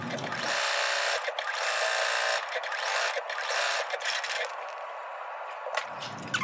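A sewing machine stitches cupcake quilt blocks in one steady, continuous whirring run at close range, easing off briefly near the end.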